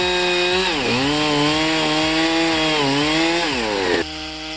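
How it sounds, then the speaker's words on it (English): A standard chainsaw fitted in a Granberg frame mill cuts lengthwise through a log into planks, a loud, close, continuous engine whine that sags and recovers with load before easing off at the end. "Standard chainsaw, a Granberg frame, and suddenly it's a portable sawmill."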